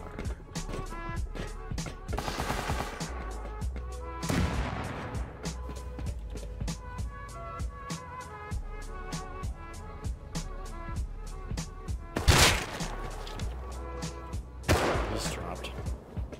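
Rapid gunfire from the survival game Rust, with sharp repeated reports and several louder bursts standing out from steady rhythmic shooting, heard alongside game sound and occasional voices.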